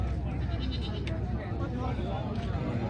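Goats bleat repeatedly at a busy livestock market in Dina, loud and close amid a steady hubbub of people talking.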